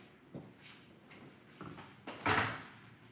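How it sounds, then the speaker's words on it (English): A door opens as someone walks into a farmhouse room: soft knocks and rattles build to one louder clattering thump near the end, close by, over a quiet room hum. "Somebody's walking in the door"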